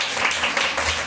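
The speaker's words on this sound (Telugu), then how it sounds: "గట్టిగా చప్పట్లు కొట్టు" Church congregation clapping hands together during a sermon, a dense continuous wash of applause lasting about a second, fairly loud and steady.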